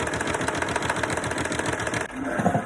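Sewing machine running a row of long straight stitches through fabric for a ruched milkmaid bust top, a steady fast mechanical chatter that stops abruptly partway, followed by quieter handling noise.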